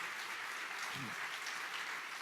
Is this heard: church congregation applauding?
yes